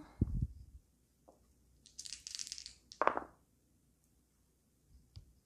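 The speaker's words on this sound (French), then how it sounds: "On va relancer les 6." A few quick clattering rattles of dice tumbling and settling during a solo game of Dice Hospital, with short bursts separated by quiet pauses.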